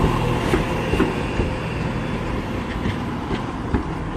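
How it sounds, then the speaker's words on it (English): An Arriva Trains Wales Class 175 diesel unit pulls out of Shrewsbury station with a steady engine rumble and a faint rhythmic clatter of wheels over rail joints, heard close and continuous without talk. "And also departing, we're going to have the Arriva Cranes Wales 175."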